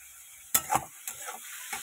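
Green chilies dropped into hot oil, giving a few brief crackling bursts and spits with short quiet gaps between them, close and fairly faint.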